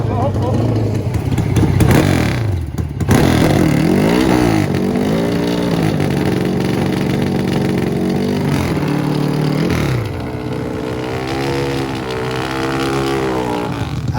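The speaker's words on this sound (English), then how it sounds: "These V-twins make about 400 horsepower at the crank, about 330 at the rear wheel." A Pro Stock V-twin drag racing motorcycle of about 400 horsepower runs loud and steady for the whole stretch, its engine pitch rising and falling, with a brief dip near the start.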